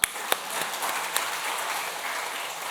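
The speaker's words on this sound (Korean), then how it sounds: "박수 한번 씩." Congregation applause at a spring revival service in a church, a broad steady wash of many hands clapping with a few sharper claps at the start, moderately loud and filling the whole clip.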